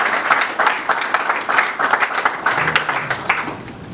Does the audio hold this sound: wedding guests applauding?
yes